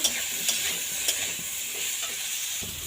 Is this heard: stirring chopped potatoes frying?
yes